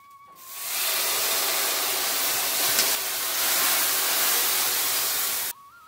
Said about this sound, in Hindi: तो तड़का भी तैयार हो गया है, अब मैं दाल को डाल रही हूँ कढ़ाई में।